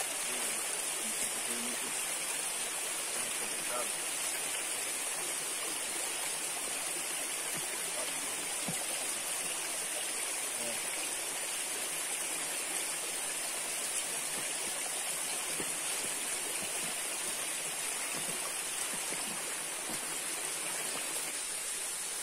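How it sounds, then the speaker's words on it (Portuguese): A waterfall pours in a steady, dense rush of water, constant and enveloping throughout with no talk. "Finalmente chegamos na cachoeira."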